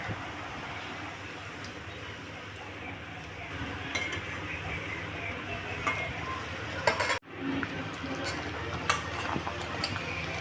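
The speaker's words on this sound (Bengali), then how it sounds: "এবারে কয়েকটা লুচি ভেজে নেওয়া হবে" Luchi fry in hot oil for a Jagannath bhog, giving a steady sizzle with stirring and occasional metal pan and utensil clinks, close and moderately loud. No one speaks.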